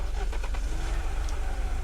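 A truck engine in the Unturned video game turns over and catches, with a low rumbling idle and rhythmic starter chugs at close range.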